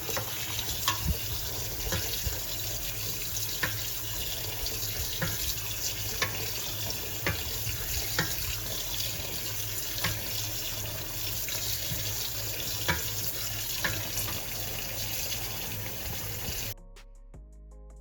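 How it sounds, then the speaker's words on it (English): Cold tap water gushes into a kitchen sink to rinse cooked pasta, a steady loud rushing stream with small splashes, stopping abruptly near the end. "drain it and give it a quick rinse with cold water to stop the cooking process."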